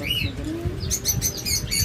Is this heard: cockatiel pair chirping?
yes